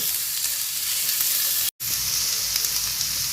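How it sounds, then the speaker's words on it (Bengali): Chopped onions, one cup's worth, sizzle steadily in hot oil for a chicken filling while being stirred, a dense continuous frying hiss with a brief cut partway through and no talking. "এখন এখানে আমি 1 কাপ পরিমাণ পেঁয়াজ কুচি দিয়ে দেব এবং এই পেঁয়াজ কুচিগুলো আগে আমি 2 মিনিট ধরে"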